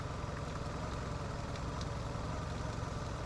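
A car engine with a broken fuel line runs at a low, rough idle, giving a steady, close, low rumble that holds with no break and no talking over it.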